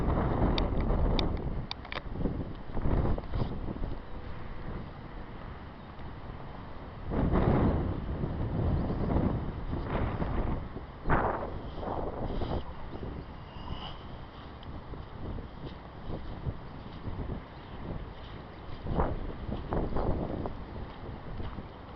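Heavy wind roaring continuously, with strong buffeting gusts across the microphone and occasional bumps and knocks.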